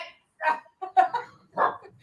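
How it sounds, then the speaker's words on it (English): A dog barks out a window, giving a few short, moderately close yips and barks in quick succession, with no talk in between. "Got the dog barking out the window."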